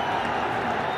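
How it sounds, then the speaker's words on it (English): Large cricket crowd at a T20 match between Chattogram Challengers and Fortune Barishal applauding a big hit, a dense, steady roar of clapping and cheering heard from a distance, continuous and fairly loud throughout the brief moment. "Very well appreciated by this big crowd."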